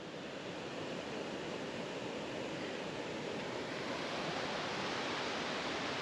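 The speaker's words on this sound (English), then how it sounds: "There is waterfalls." Waterfalls in the Scottish Highlands roar as a constant, even rush of falling water, broad and steady with no breaks, heard from a moderate distance with no voices.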